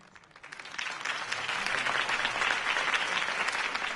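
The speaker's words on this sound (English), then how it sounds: "could have heard that applause" Steady applause from a sizable crowd, building quickly and then holding at a full, even level of dense clapping with no voices on top.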